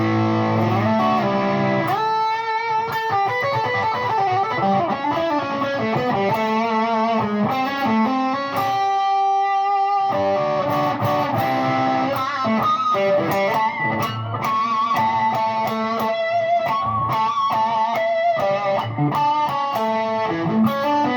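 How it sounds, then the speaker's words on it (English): Electric guitar played through a Peavey Predator amp's Cerberus distortion and drive channels stacked together, a loud, continuous saturated tone with sustained chords and note runs for the full length, a brief quieter gap midway. "So distortion channel and the drive channel together from the Cerberus"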